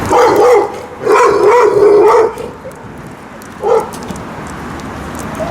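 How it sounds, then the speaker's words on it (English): A dog barks loudly in a few rough bursts, then gives one shorter bark after a pause; no one speaks. "It's a loud bark."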